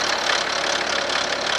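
A BMW 530d diesel engine running with an abnormal noise suspected from the timing chain, a dense, steady mechanical clatter heard up close.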